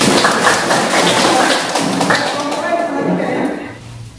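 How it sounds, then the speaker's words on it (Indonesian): Applause from a classroom audience during a negotiation-text lesson, a dense, steady wash of many hands clapping together that fades slightly near the end. "Kita tutup kesepakatan ini dengan memberikan kesempatan kepada kelompok Arifan tampil dahulu. Kita berikan aplaus"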